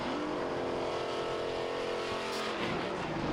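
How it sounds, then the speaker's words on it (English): A race truck on a dirt track at a MORR Series event roars past with a sustained, loud engine drone that shifts slightly in pitch as it drives, with no talking over it. "As we have another truck pulling off."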